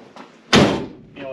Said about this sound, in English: And then when you close the other door,